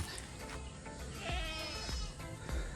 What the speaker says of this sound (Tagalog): may mga kambing pa dito